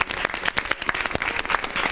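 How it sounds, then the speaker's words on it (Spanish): An audience at a science talk show applauds, producing a dense, steady burst of many hands clapping close by across the whole short stretch. "Le damos un aplauso."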